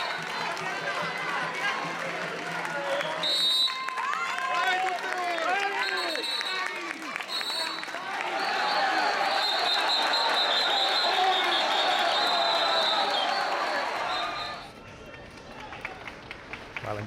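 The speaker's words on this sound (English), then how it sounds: "Crowds of people cheer on the carriers of the candles" Crowds cheer and clap for the men carrying huge candles, weighing up to 900 kilos, at the Saint Agatha festival in Catania, Sicily; a dense, lively roar of voices and applause fills the street, with shouts rising and fading.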